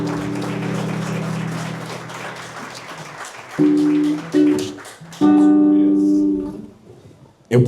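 A church congregation claps together over sustained keyboard chords; the applause fades after a few seconds while held organ-like notes continue.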